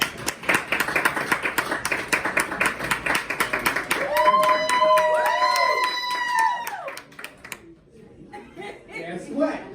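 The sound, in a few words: comedy club audience applause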